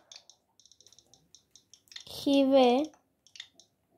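Light keystrokes click on a computer keyboard as a command is typed into the Minecraft chat. A quick run of taps comes first, and a few more follow after a brief voice sound in the middle.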